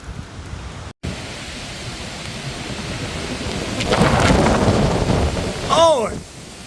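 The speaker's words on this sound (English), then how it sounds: "Hurricane Helene ain't playing no games! We got swings rocking, we got branches falling" Hurricane Helene lashes a neighborhood with heavy rain and strong wind while branches fall. A dense, continuous roar of rain and wind swells louder midway, and a brief creaking squeal rises near the end.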